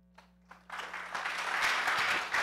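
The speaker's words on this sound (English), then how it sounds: "A big applause for Chairman, please." Applause from a memorial service audience begins after a couple of faint taps, then swells into steady, dense clapping that carries on to the end over a low hum.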